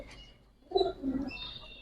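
Giribaz pigeons give a couple of short, moderately close coos after a quiet start, followed by a faint lingering call over low background hum.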